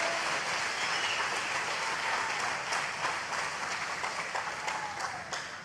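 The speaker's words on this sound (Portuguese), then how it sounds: "aplauda o Senhor com vigor, com força" A church congregation applauding together, a dense sustained wash of clapping hands that slowly fades toward the end.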